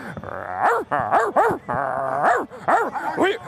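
A man imitates a dog with a string of voiced barks and growly woofs at a baseball game, loud and close, in quick uneven bursts.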